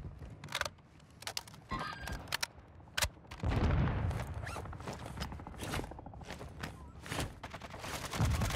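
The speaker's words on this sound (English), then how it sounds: "I'm getting shot from somewhere." Rapid gunfire from a Warzone 2 video game match, including an M16 rifle, rattles in dense bursts and sustained automatic volleys, loud and close, with scattered single shots and mechanical clicks between them.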